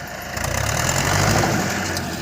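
A worn-out tractor engine hauling timber on an icy forest track idles with a low, steady, slightly uneven rumble, loud and close, with no voices.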